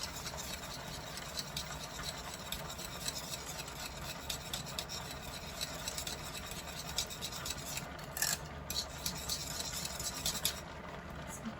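A whisk scrapes and swirls through stovetop mac and cheese sauce in a pot, a continuous soft rasping patter that stays close and steady throughout.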